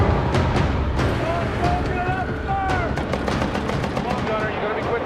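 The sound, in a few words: heavy machine gun firing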